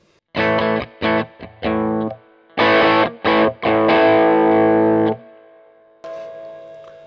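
Overdriven electric guitar through a JHS Bonsai Tube Screamer pedal plays loud, separated chord hits, then a sustained chord, a brief gap, and a quieter ringing chord with the bridge pickup selected.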